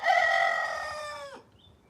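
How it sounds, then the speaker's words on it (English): A cockerel kept with hens at home gives a single loud, close crow lasting over a second, with a falling tail at the end, followed by quiet. "Does anyone want a cockerel?"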